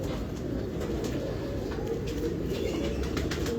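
Pigeons coo softly and steadily in a loft, with faint low murmuring calls over a constant background hum and no talk.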